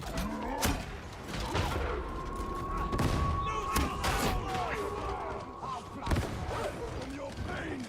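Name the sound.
grenade explosion in a video game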